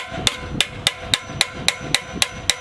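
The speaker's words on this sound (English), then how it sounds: "We're gonna do the hammer trick again?" A hammer strikes a fixed cog on a bicycle wheel to loosen it, giving nine sharp metallic blows at a steady, fast rhythm, close and clear.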